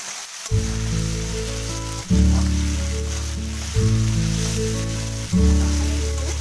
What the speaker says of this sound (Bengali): কাঁচা কলা আমার ভাজা হয়ে গেছে খুব ভালো মতো